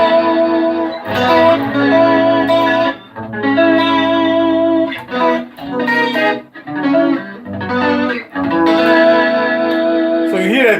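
Electric guitar through a modulation effects pedal in a pedal demo, sustained chords and notes with swirling chorus-like wobble and echo, loud and close, separated by brief pauses.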